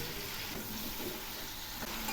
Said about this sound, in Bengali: সবজিগুলো অনেকটাই ভাজা হয়ে আসছে।